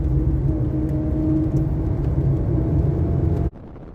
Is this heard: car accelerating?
yes